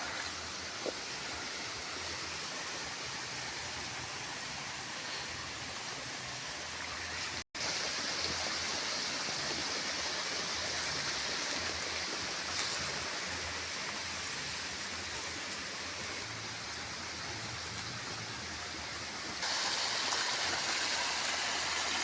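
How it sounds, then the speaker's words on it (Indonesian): Water splashes steadily while a large flowering durian tree is watered, a continuous close rushing hiss like a stream, with a brief break partway through and no talk. "Begini cara menyiram pohon duriannya maupun pohon musiman lainnya."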